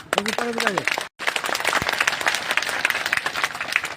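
Audience applause bursts out at a railway goods-shed workers' union meeting, dense clapping running for several seconds after a brief announcement, with a voice heard over the start and the crowd carrying on loudly to the end.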